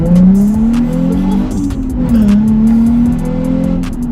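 A loud Nissan 350Z engine drones and rises in pitch under hard full-throttle acceleration, a close, throaty roar holding steady throughout.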